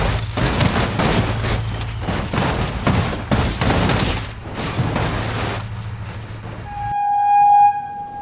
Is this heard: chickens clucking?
no